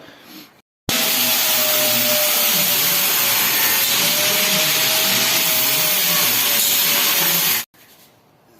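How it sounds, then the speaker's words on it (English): An angle grinder cuts rust back on the bodywork of a Suzuki Ignis Sport in a loud, continuous whining roar with a steady tone, starting abruptly and stopping after about seven seconds. "I'm going to grind all this back and get it ready to put some chip guard on"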